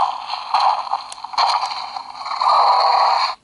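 Pressing the button on a Mattel Jurassic World Fallen Kingdom Roarivores Allosaurus toy sets off an electronic dinosaur sound from its small speaker, a raspy, growling roar in several loud surges that ends abruptly, with no voices.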